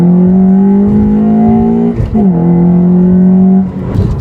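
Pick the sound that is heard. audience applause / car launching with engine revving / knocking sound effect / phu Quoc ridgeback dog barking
car launching with engine revving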